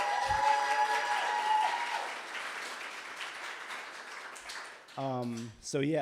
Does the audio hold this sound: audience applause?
yes